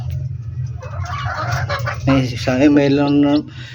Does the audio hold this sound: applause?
no